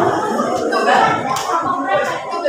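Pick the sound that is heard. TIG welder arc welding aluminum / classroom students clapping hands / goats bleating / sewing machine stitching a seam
classroom students clapping hands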